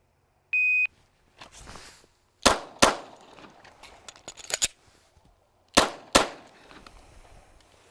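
A shot timer beeps, then a stock Glock 19C fires two loud close shots at a target, a pause with magazine-change clatter follows, and two more sharp shots ring out.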